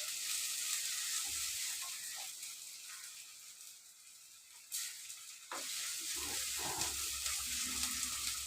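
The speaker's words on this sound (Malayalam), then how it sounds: "ഇപ്പം തന്നെ ചട്ടി നല്ലോണം ചൂടായതുകൊണ്ട് നല്ല പെട്ടെന്ന് വഴണ്ടി." Ingredients for a mango fish curry sauté in a very hot pan, a faint crackling sizzle that dips midway and returns with some stirring.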